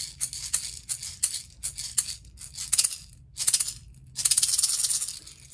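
Bright, rapid rattling of a handheld shaker in quick rhythmic bursts, close and alone, with a longer sustained shake at the end.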